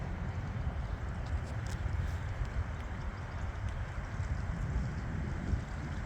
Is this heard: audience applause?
no